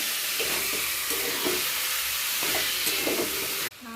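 Chicken, tomato and salt sauté in a pan with a loud steady sizzle, broken by repeated spatula scrapes and stirring strokes, close up until a sudden cut near the end.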